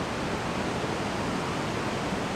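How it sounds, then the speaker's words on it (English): Athabasca Falls in the Canadian Rockies roars as a constant, broad rush of falling water, loud and unbroken throughout, with no voices. "I think these waterfalls are called Athabasca waterfalls."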